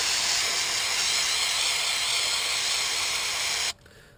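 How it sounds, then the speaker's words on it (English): CRC Mass Airflow Sensor Cleaner sprays onto a mass airflow sensor in one loud, steady, continuous hiss lasting several seconds, then cuts off sharply into near silence. "CRC, Mass Airflow Sensor Cleaner. Let's put a little bit more in here."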